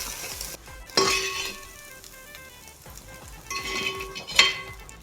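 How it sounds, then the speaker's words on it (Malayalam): Chicken fried rice is stir-fried in an uruli pan, a lively sizzle with scraping stirs and two sharp metallic clinks of the spoon against the pan. "ഇങ്ങനെ നമ്മളൊന്ന് ചിക്കി എടുക്കണം"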